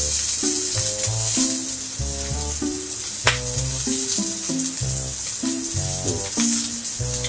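Yakiniku meat sizzles on a grill in a continuous hiss under background music, with an occasional sharp tap.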